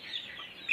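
A native Basilan breed free-range chicken gives a short, close cluck-like call, a brief high tone swelling slightly at the end, with no talking.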